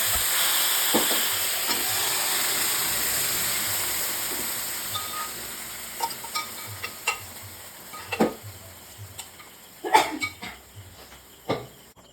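Boiled broken wheat frying with spices in a pan, an even sizzle that gradually fades while intermittent utensil knocks and scrapes punctuate the later half.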